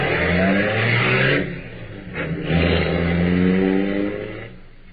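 An old-time radio drama car races off down the block, its engine revving loudly and close, then easing briefly before surging again and fading as it pulls away.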